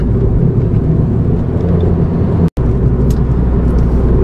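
A convertible is driven fast on a rough, curving road, with loud, steady engine and road rumble throughout that cuts out very briefly partway through.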